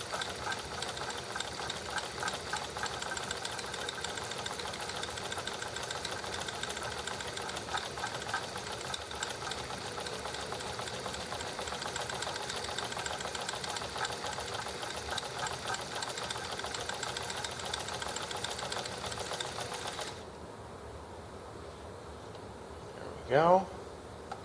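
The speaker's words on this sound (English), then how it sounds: "Slowly stitch a long row under zigzag and see where we end up." A sewing machine runs steadily for about twenty seconds, stitching a long zigzag row, with a fast even mechanical whir. It then stops, leaving quiet room tone and a brief voice at the end.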